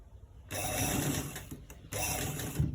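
A sewing machine stitches a V-neck in two short close bursts of rapid mechanical clatter, separated by a brief pause.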